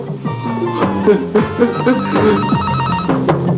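A telephone rings loudly and close in a home setting, its electronic warbling ring repeating steadily under music and background sounds.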